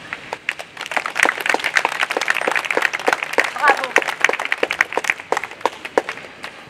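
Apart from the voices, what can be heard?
audience applauding the speakers at a Lyon protest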